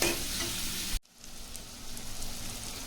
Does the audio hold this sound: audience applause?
no